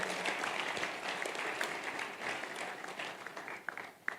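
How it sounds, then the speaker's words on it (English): Audience at a sales masterclass clapping for themselves, a dense, even wash of applause held at a fairly soft level and tapering near the end. "Come on, clap for yourself"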